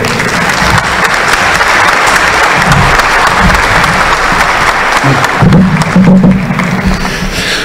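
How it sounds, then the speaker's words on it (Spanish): Audience at a public forum on electoral reform in a local congress applauds loudly and continuously, a dense close wash of clapping that holds for several seconds. "Le pedimos un fuerte aplauso a todos, por favor."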